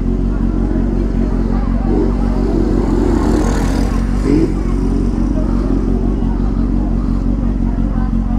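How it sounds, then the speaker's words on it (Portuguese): Honda Hornet motorcycle left running at idle nearby, a steady low engine rumble throughout with slight throttle fluctuations and some faint clatter. "Deixar a moto ligada mesmo"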